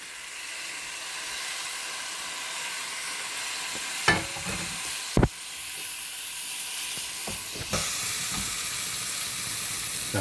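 Tomato paste sizzles steadily in a hot pan while being stirred for a paneer butter masala, a constant frying hiss broken by a few sharp scraping clicks of the spoon, with no talking.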